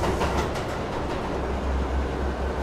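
A train rolls through the night in a cartoon setting, a steady, dense rumble of carriage and track noise filling the whole stretch without breaks.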